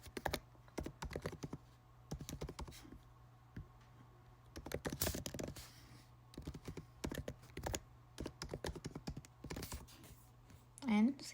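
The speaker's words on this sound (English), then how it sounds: "I'll type in the email address again." Computer keyboard keys clicking in short irregular bursts as an email address is typed into an online form, close and fairly quiet, with brief pauses between runs of keystrokes.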